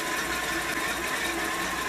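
Boat engine running on a muff while being winterized with antifreeze, a steady loud mechanical drone with a fast rhythmic chatter, continuous and close throughout.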